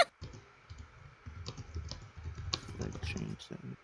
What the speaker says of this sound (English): I'm still typing in real quick.